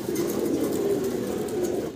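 A red single English Trumpeter pigeon coos nearby, a low steady murmuring call that runs unbroken for about two seconds and then stops abruptly, with no talking.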